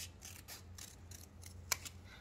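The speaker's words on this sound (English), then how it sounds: "And just cut out these lines." Scissors snip through paper while cutting out a wing shape for a folded paper craft, a series of quiet, evenly spaced crisp cuts with one slightly sharper snap near the end.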